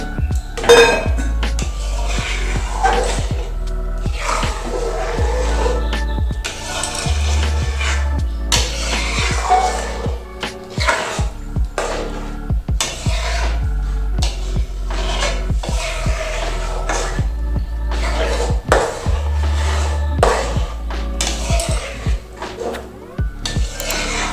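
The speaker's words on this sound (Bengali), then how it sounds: "জলটা দিয়ে ভালো করে নেড়ে আবার ফুটে উঠবে।" A spoon stirs a rice mixture with water in a metal pot, producing loud, repeated clanks and scrapes against the pot in a busy, uneven rhythm, close up and with no speech.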